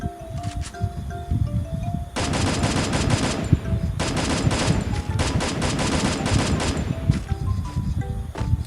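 Gunfire rings out in a ranked solo-mode shooter video game: repeated bursts of rapid automatic fire, loud and close, separated by brief pauses, over faint background rustle.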